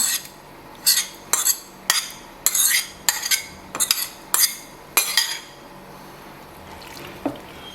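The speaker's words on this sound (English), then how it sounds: "Next, we add our ground spices, and we stir this well." Ground spices are stirred into a sour catfish and vegetable stew, a spoon knocking and scraping against the pot in roughly eight sharp, evenly spaced strokes before fading to quiet, with no talk.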